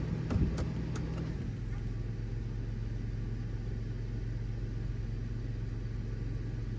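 A 2000 Toyota 4Runner with the 5VZ V6 engine, misfiring and chasing lean codes, runs at a steady low idle with a continuous rumble, close by and unbroken after a brief clatter at the start.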